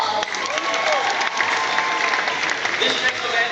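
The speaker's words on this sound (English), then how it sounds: "Let's give both teams a nice round of applause." An audience at a live Fear Factor stunt show at Universal Studios applauds for two competing teams, dense steady clapping with some cheering throughout.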